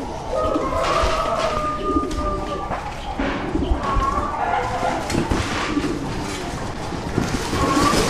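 Pigeons coo steadily amid the constant hubbub of a crowded pigeon exhibition hall in Trenčianske Stankovce, Slovakia, with a dog barking and people talking in the background.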